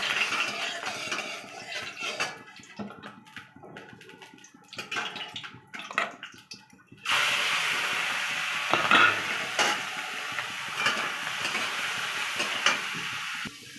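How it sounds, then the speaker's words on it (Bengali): Prawns go into hot oil partway through, and a quieter stretch of clatter and stirring gives way to a loud, steady sizzle that holds close and continuous to the end, with no talking. "আমি এবার চিংড়ি মাছটা ভাজা করব।"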